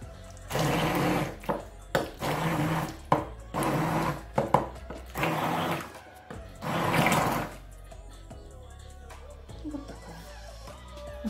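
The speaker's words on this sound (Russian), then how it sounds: "Если оно с кусочками, то его пюрируем, я измельчаю блендером." A hand blender purees homemade apple jam with fruit pieces, running in about five loud bursts of whirring separated by pauses, and then stopping before a quieter stretch at the end.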